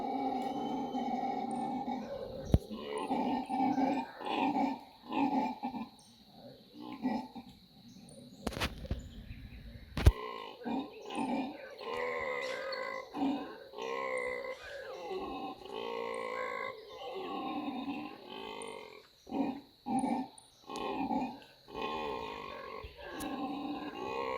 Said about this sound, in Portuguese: ó o bugio, a família, ó o barulho